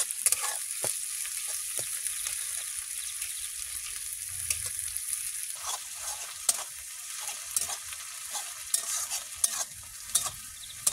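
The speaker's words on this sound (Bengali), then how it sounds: "দেখুন এবার লাল লাল করে ভাজা হয়ে গেছে" Onion with garlic and ginger paste fries in oil in a kadai, a soft steady sizzle broken by frequent scraping and clattering of a stirring spatula, quiet and close, with no talking.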